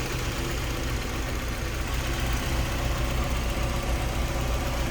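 A 1990 Mazda MX-5 Miata's 1.6-liter dual overhead cam inline-four runs at a smooth, steady idle, close and fairly loud, a continuous even hum with no voices.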